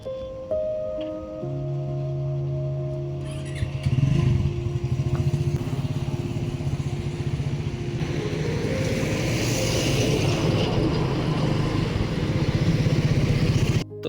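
A motorcycle on a long bike trip idles and then rides off, its engine hum rising into a steady loud drone with wind and road noise, dipping briefly before building again.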